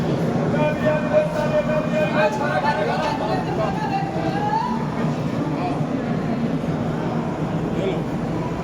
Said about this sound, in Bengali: এই হচ্ছে নাগপুর স্টেশন।